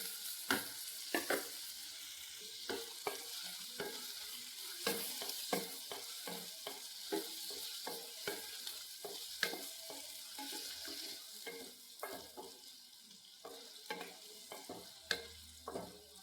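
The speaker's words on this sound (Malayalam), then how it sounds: "പനീറും വഴറ്റിയെടുക്കാം നല്ല വൃത്തിയായിട്ട്" Paneer sautés in a hot pan for a Kerala-style paneer roast, giving a steady soft sizzle broken by rhythmic scraping stirs that repeat about every half second, with no voices.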